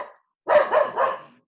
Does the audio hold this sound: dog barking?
yes